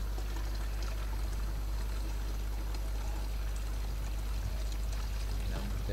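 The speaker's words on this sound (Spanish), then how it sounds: "Llenamos de agua embotellada porque el agua del grifo tiene cloro" Bottled water pours continuously into a container holding an onion, garlic and chili mixture for a homemade pesticide, a steady splashing and gurgling stream up close, no speech heard.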